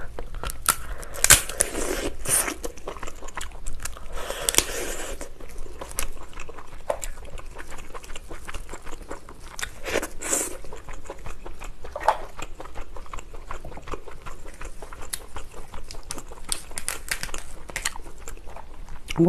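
Someone eating a giant steamed lobster, with wet biting, cracking and crunching of shell and meat heard close up in irregular bursts throughout, no talking.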